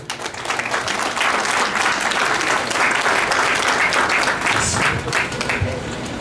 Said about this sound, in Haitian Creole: recevoir un chaleureux applaudissement en guise de récompense pour le travail